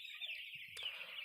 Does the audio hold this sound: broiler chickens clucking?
yes